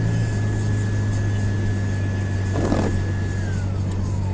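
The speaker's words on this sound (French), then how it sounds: "Le bruit de la voiture que vous entendez, c'est pas une voiture normale." A small car engine hums steadily at close range, a low constant drone with a brief rustle partway through and a faint whine sliding down near the end.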